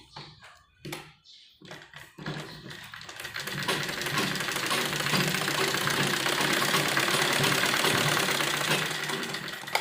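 A sewing machine runs a double seam on a child's lined kurti, starting with a few short bursts and clicks, then settling into a steady, close, rapid whirring stitch that runs to the end.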